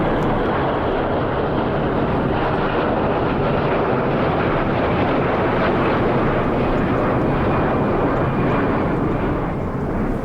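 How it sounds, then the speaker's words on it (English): A cargo plane arriving from Europe roars overhead, a loud continuous engine drone that stays steady throughout with no talking. "What is the plane bringing from Europe?"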